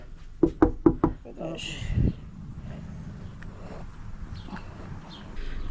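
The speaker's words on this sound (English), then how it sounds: "I'm gonna knock on the" Four quick, loud knocks on a front door during a package delivery, followed by quieter rustling and a person talking.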